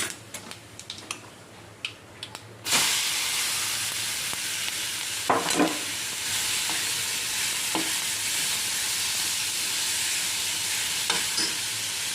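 Papaya relish sizzles loudly and steadily in hot oil after a few seconds of light clinks and taps, with occasional stirring clicks over the continuous hiss.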